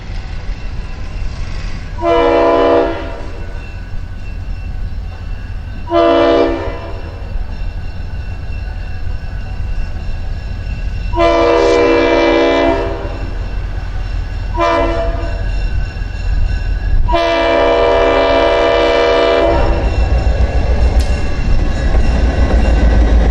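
A Norfolk and Western GP30 diesel locomotive blows its horn in five loud blasts, some long and some short, over a steady rumble of the passing train that swells toward the end.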